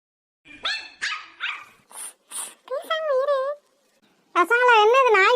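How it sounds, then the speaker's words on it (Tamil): Several high, whiny yaps and a longer squealing bark from a young dog nearby, in quick succession, with short gaps and raspy noises mixed in. "பசங்களா, என்னது நாய்க்குட்டி சத்தம்லாம் வருது?"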